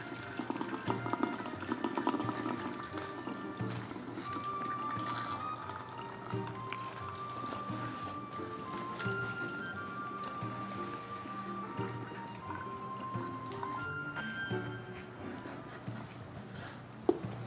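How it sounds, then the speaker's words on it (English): Soybean puree squeezed through a cloth to press out soy milk for homemade silken tofu, a steady wet trickling and dripping of liquid with soft squelches, continuous and close, no talk. "Squeeze out as much soya milk as you can."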